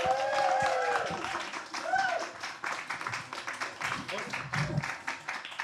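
Clapping from a small audience greets Dave Okumu and Anthony Joseph at a talk about their record, scattered and moderately loud, with a voice speaking over the start.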